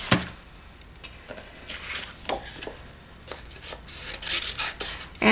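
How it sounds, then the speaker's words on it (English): Small snips cut paper in close, dry rasping snips and crisp rustles, irregular and fairly quiet, with a sharper snip at the very end. "let's go ahead and make an effort at doing a little bit of fussy cutting as soon as I find my little snips."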